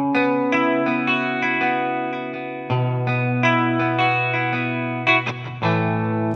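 Clean notes and chords from a Rickenbacker 330 electric guitar sample library, played with a thickened, doubled chorus-like sheen that spreads them wide, steady and fairly loud, no voices present.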